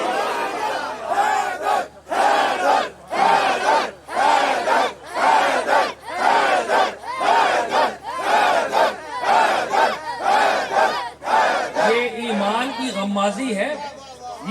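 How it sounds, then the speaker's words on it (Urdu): A crowd at a devotional poetry gathering for Mola Ali chants 'Haidar, Haidar' in loud, rhythmic bursts of massed voices, each shout separated by brief pauses, sustained throughout. "جو احباب حیدر حیدر کے نعرے لگا رہے ہیں"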